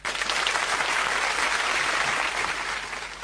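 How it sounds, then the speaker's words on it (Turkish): Studio audience at a 2013 Cypriot television quiz show applauds a finalist, a dense, steady burst of clapping that fills the whole stretch at full strength and eases slightly at the end, with no talk over it. "Alkışlarınızla."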